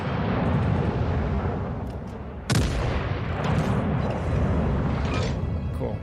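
Warship turret guns firing in World of Warships Legends, one loud, sharp cannon boom midway that rolls off into a long rumble over a constant low engine and sea drone.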